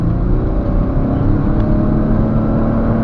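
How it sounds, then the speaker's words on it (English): 2011 Lexus RX450h 3.5 hybrid SUV accelerating hard from a standstill to 60, a loud, steady engine roar with a rising drone heard from inside the cabin. "Now I'm going to do a 0 to 60 test now."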